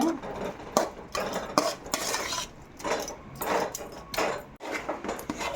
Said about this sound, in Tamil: சேர்த்து எல்லாமே நல்லா ஒன்றா கலந்து விட்டுங்க